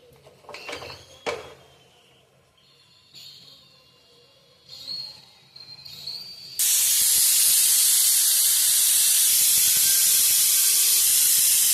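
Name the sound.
pressure cooker whistle releasing steam while cooking rice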